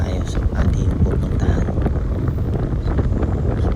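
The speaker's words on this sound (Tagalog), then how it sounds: "pasensya kayo sa lakas ng hangin" Strong wind buffets the microphone in a constant low roar throughout on Mt. Kulis in Tanay, Rizal, loud and close, with no clear speech above it.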